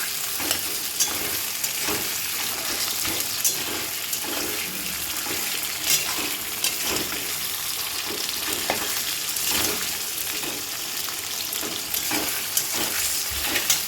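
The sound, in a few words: chicken frying in pan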